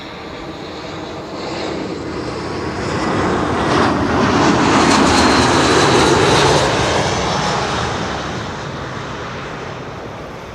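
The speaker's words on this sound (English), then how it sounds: "Arriving from Barcelona, Vueling flight 8300" A Vueling Airbus A321 jet lands on Runway 06 at Amsterdam Schiphol. Its engine roar swells to a loud broad rush as it passes close by, then slowly fades, heard alone without voices.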